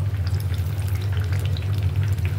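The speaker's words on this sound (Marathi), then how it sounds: "हे बघा, छान गोल्डन ब्राऊन कलर पर्यंत आपल्याला तळून घ्यायचे" Veg spring rolls deep-fry in hot oil until golden brown, giving a steady fine bubbling crackle over a constant low hum, close and even throughout.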